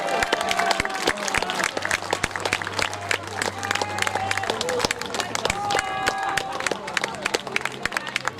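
An audience claps for a costumed participant at a Venetian carnival-style costume parade in Chanaz, with sharp, steady applause mixed with crowd murmur and a few voices nearby.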